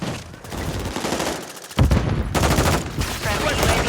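Akimbo shotgun fire in the video game Modern Warfare 3, a dense run of loud close blasts with a heavy burst near the middle, over busy game audio with brief voice callouts.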